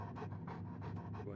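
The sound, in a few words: wolf panting in the video game Oblivion Remastered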